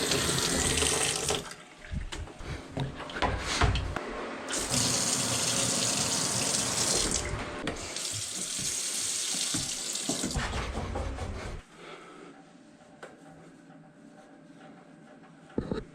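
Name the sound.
water running after being turned back on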